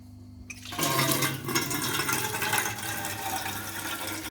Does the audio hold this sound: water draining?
yes